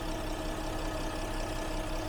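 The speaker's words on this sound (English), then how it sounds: "We've got our VR6 idling away." A 2016 Porsche Cayenne VR6 engine idles close by, a steady, even hum with a faint mechanical chatter and no talking over it.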